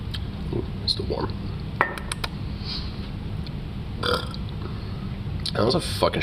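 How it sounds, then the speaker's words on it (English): A man lets out a short, weak burp indoors amid faint clinks of glass and dishes, followed by him speaking casually nearby. "That was a fucking shitty burp."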